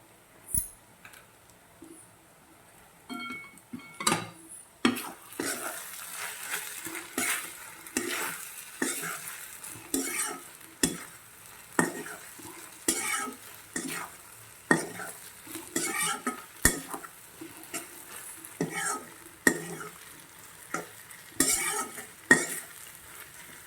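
Gram flour and okra curry with spices being stirred in a pan, a spoon scraping and knocking in irregular strokes over a steady sizzle, close and fairly loud, with no talking.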